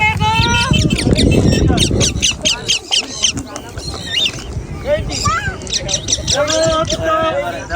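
Parrots squawk and chirp loudly in bursts during free flight, overlapping with people talking nearby in a busy outdoor scene.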